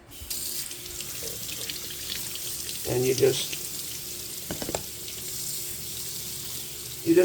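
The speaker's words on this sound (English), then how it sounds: "Just run some water," Water runs steadily from a sink tap while vegetable insides are rinsed during breakfast omelet cooking, fairly close and loud, with a brief spoken voice over it and a few clinks near the end.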